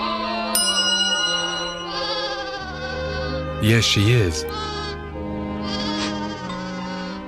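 A cartoon sheep bleats loudly in a Disney English-learning program, a wavering cry near the middle amid music and a voice speaking briefly.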